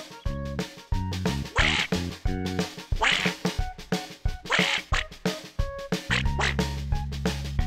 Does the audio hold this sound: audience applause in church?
no